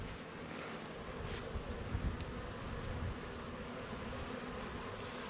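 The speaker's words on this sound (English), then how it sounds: "And here comes some more bees over here." Honeybees buzz around backyard hives on a homestead in spring, a steady outdoor drone with wind noise and a few brief louder passes near the microphone.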